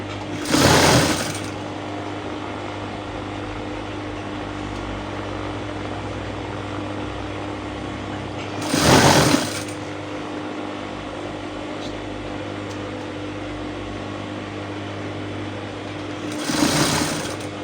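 A sewing machine stitches elastic onto fabric for a blouse in three short, loud bursts of rapid needle clatter, separated by long pauses filled with a steady low motor hum.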